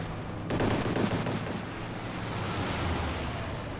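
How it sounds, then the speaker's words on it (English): Rapid rattling gunfire from an airborne strafing run in the Company of Heroes 2 battle game erupts half a second in, loud and dense, then fades into a broad roaring wash of rumble and distant bursts. "We have an airborne strafe coming in."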